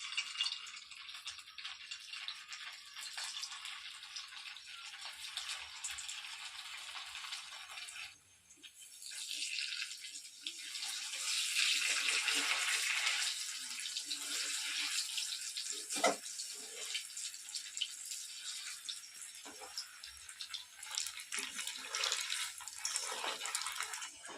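Fish koftas frying in hot oil in a home kitchen, a steady hiss and crackle that runs the whole time with a brief dip near the middle.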